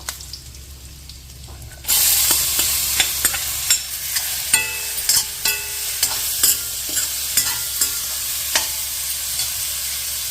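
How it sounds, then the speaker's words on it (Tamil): Mochai (field bean) sundal being stirred and fried in a pan with idli podi and curry leaves: after a quiet start, a steady close sizzle with repeated scraping spoon strokes against the pan. "எடுத்து வச்சுருந்த இட்லி பொடியும் போட்டுட்டு 1 நிமிஷம் கிளறிட்டு இந்த மொச்சக்கொட்டையும் போட்டுடலாம்."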